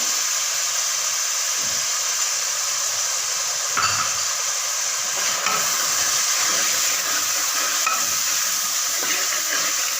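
Chili and turmeric fry in hot oil in a pan, a steady loud hissing sizzle throughout with occasional soft clinks and scrapes of a spoon stirring, close and continuous with no voices.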